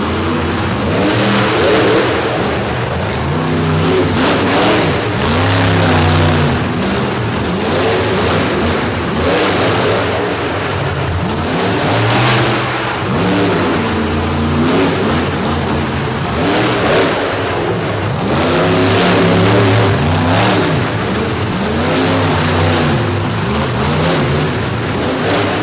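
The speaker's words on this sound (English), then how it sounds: "Here comes another heavyweight Ford in the field, another Patrick chassis entry." Ford monster truck with a Patrick chassis at an arena show, engine loud and close, revving in repeated surges with rising and falling pitch throughout, no talk over it.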